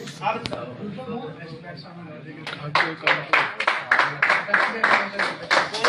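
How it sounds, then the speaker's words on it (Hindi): Applause breaks out at a cricket club's annual awards ceremony, with an audience's clapping building into rapid, loud, steady bursts after a stretch of voices and murmur in the hall. "छोटे खिलाड़ी को जोरदार तालियां दीजिए।"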